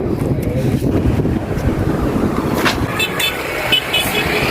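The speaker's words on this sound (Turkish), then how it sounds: "Böyle serin bir rüzgar esiyor." Steady cool wind at a beach in Brazil rushes and buffets across the microphone, a continuous broad roar with faint background activity and no clear voices.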